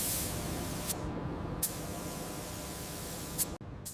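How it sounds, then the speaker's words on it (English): Glossy finish coats are sprayed onto the frame of a 1967 classic car under restoration, producing a steady close spray hiss with a few short louder bursts and an abrupt cutoff near the end. "Multiple glossy finish coats are applied to the frame, building a durable, flawless surface."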